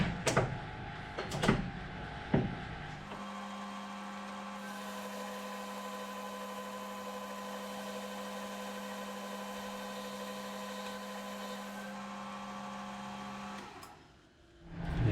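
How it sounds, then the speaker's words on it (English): Metal lathe machining a Fendt tractor PTO housing: after a few clunks, the spindle spins up to a steady, even tonal whir lasting about ten seconds, then winds down and fades. "I'll speed the lathe up, and then I'll get a micrometer and check the measurement."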